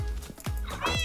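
A Minecraft cat gives a short meow near the end, following a few soft thumps of in-game activity, all close and fairly loud.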